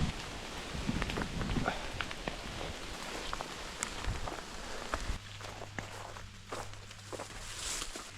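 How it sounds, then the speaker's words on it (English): Rain patters steadily on leaves in open forest during a rainstorm, mixed with close footsteps brushing and squelching through wet undergrowth, with a low hum entering partway through. "with it being so open it lets in a lot more rain, so I'm getting soaked"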